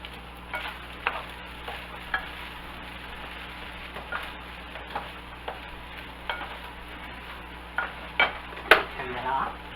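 Chicken fried rice with green onions stir-frying in a pan, a low steady sizzle under repeated scraping and clacking of a spatula on metal, close and rhythmic, with occasional louder knocks.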